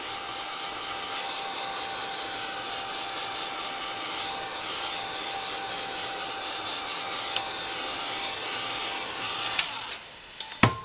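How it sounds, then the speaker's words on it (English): A hair dryer blows steadily to dry freshly applied paint on a silhouette painting, a constant broadband whir that holds evenly for about ten seconds before cutting off with a few small clicks at the end. "Take your dryer"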